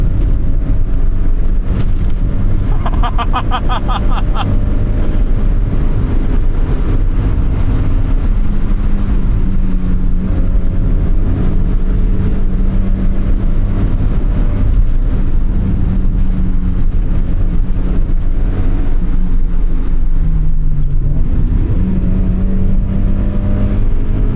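A 1992 Mazda MX-5 Miata NA's engine drones loud and close, its pitch climbing and falling as the revs swing up and down. A brief rattling buzz comes early, and there is no talking.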